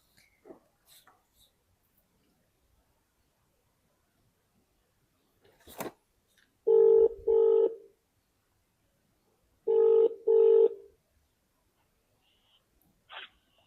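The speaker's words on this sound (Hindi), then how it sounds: "तो अब हम उनको फोन करेंगे" Touch-tone keypad beeps as a phone is dialed to call a viewer on an interview program: two pairs of short, loud tones separated by a pause, with faint clicks and a sharp knock before them in an otherwise quiet room.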